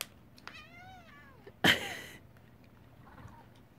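A white cat gives a drawn-out meow with clear harmonic rises and falls, followed by a sharp, loud burst like a sneeze or hiss, then quiet rustling room noise.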